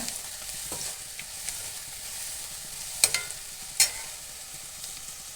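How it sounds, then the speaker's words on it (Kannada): Okra frying in oil in a pan while being stirred, with a soft steady sizzle and a few sharp scraping clinks of the spoon against the pan near the end. "ಬೆಂಡೆಕಾಯಿ ಹಾಕಿ ಸರಿಯಾಗಿ ತಿರ್ಸ್ಕೊಂಡಿದ್ದೇನೆ"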